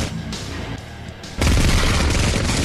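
Rapid gunfire from an HST combat mech in ARK, a quieter burst followed by a loud sustained volley of booming shots, close and continuous.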